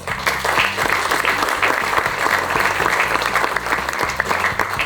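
Loud, dense audience applause at an award ceremony honouring rugby refereeing, continuous clapping from a sizable crowd throughout with no talk over it.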